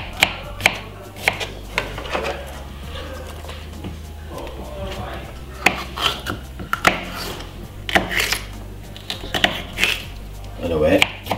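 A small knife cuts up a yellow pepper for a fresh salad, giving a series of sharp, close taps and clicks against a board at an uneven pace, with a low steady hum underneath.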